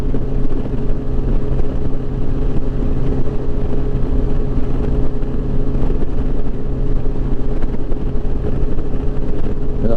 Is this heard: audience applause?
no